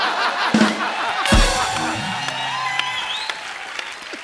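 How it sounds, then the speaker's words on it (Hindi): Studio audience applause at a comedy talk show with a cricket theme, mixed with cheering, a whoop and brief sounds, fairly loud and fading into background chatter. "आपने तालियां मारी ना अभी अभी।"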